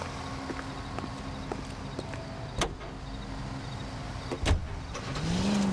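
A car drives in the video game L.A. Noire, its engine a steady low drone with a couple of brief clicks or thumps over it, alone with no talk.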